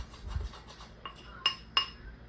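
Batter stirred by hand in a bowl, a spoon scraping and knocking against the bowl's side in a few soft strokes followed by sharper clinks, close and without voices.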